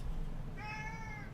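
A pet cat lets out a single clear meow, fairly close and mid-loud, over a quiet indoor room hum.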